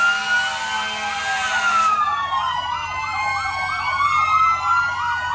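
A fire truck siren wails loudly and close at a Labor Day parade in Lowell, Indiana, a sustained tone shifting into a fast rising-and-falling yelp that repeats steadily.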